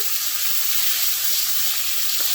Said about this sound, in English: Then I'm going to start searing these off.